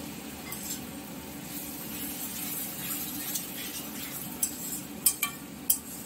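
Meat curry being stirred in a pan as beaten yogurt goes in, a steady soft scraping and sizzle throughout with a few sharper clinks of a spoon against the pan near the end.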